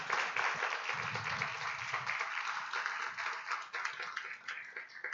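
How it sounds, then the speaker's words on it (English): Audience applause closing an evening lecture, a dense patter of many hands clapping steadily for several seconds in a hall, moderately loud and unbroken, with no talk over it. "please join me in giving a round of applause to Dr."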